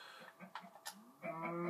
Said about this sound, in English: Cow noises, animal noises.